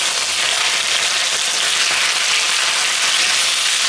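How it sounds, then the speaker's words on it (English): A Cantonese-style steak pan-frying on high heat gives a loud, steady, close sizzle that continues without a break, with no voices. "Pan fry each side for maybe 4 to 5 minutes"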